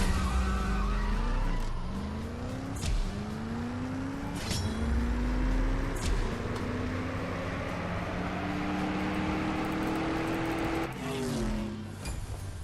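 Synthetic racing engines from the mobile game CSR2 whine and rev continuously, pitch sliding up and down with gear shifts, with brief tire skids over a steady engine drone.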